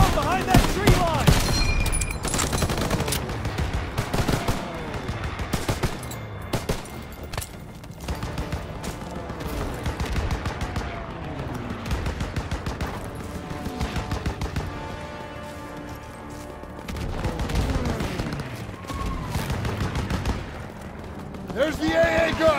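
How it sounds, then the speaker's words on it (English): Flak anti-aircraft gun firing in Call of Duty WWII, a dense battlefield roar of repeated heavy gunfire and explosions, loud and continuous, with shouted voices mixed in. "There's the flak gun!"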